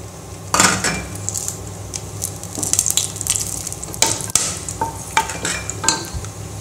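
Whole cinnamon and cloves dropped into hot ghee and oil in a pan for ghee rice, giving a steady close sizzle with metallic clinks and scrapes of a spoon stirring against the pot.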